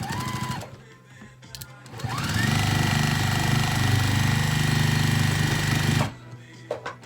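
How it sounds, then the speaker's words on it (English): Sewing machine stitching a pinned quilt block, a steady loud mechanical whir running for several seconds after a few short starts, then stopping. "let's go ahead and sew this block"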